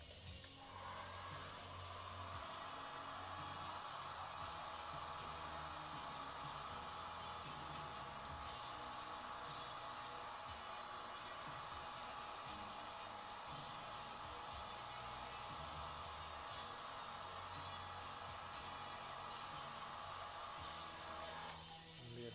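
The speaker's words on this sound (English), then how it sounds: "the hair dryer treatment" Hair dryer blowing on a wig during styling, a steady whirring hum with a rushing airflow that runs continuously for over twenty seconds, switching on at the start and cutting off near the end.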